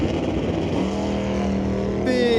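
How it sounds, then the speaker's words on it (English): A 1968 Chevrolet Camaro makes a wheelie launch at an NHRA drag race at Mission Raceway. The loud engine roar climbs steadily in pitch, with an announcer talking over it. "Big wheelie launch for his bye run."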